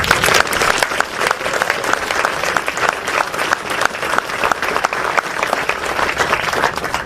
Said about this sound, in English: join me in a round of applause for the 395th Army